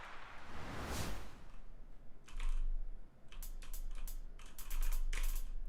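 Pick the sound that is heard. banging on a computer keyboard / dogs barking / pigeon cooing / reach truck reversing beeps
banging on a computer keyboard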